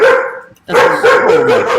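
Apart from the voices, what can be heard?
German Shepherd dog barking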